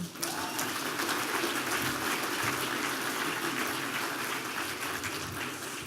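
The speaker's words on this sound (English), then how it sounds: "Another round of applause for Sue." A crowd at a sport awards ceremony gives sustained applause, a continuous wash of clapping hands heard throughout, fairly even in loudness with a slight fade at the end.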